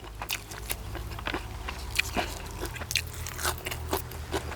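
Close-up crunchy chewing of Thai koi salad with fresh herbs, a series of crisp bites and crackling chews in an irregular rhythm, with low background hum.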